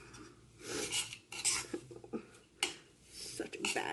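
Butter and garlic mixture stirred and scraped in a bowl for garlic bread, giving irregular clinks and scrapes of utensil against dish, moderately close, with faint background voice.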